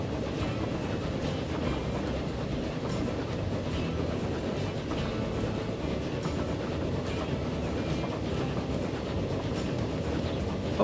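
A train rolls steadily along rails in the simulation game Transport Fever 2, giving a continuous rumbling run with faint clickety-clack over the full stretch and no speech.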